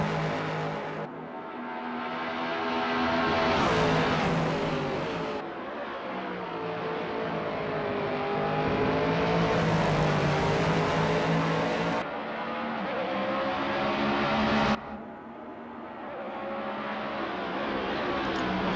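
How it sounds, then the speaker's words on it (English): Race cars roar around the Bathurst circuit during a GT feature race, engines revving up and down in long sweeps as several cars pass in succession, loud and close. "They've got a great sound, and also I think they're the most beautiful cars on the track."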